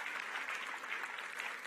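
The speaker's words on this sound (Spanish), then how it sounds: "Denle un aplauso fuerte al rey" A church congregation claps during a Spanish-language service, a short, faint burst of steady applause heard from a distance.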